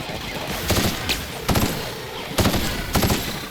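Energy weapon fired in The Outer Worlds, four sharp broadband blasts spaced about a second apart over a steady game ambience, loud and close with no talking.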